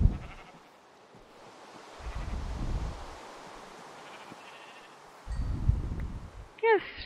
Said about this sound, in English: I'm just gonna kill a bunch of sheep